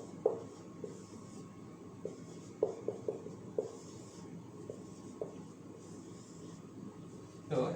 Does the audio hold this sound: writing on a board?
yes